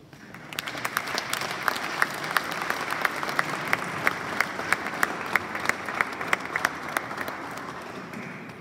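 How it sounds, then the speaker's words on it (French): Steady, dense applause from a seated crowd at a funeral in Brussels, honouring the deceased, Oscar Kaleta. It starts quickly, holds at an even level with sharp individual claps standing out, and tapers slightly at the end, with no talk over it. "Je vous demande de vous mettre et d'applaudir"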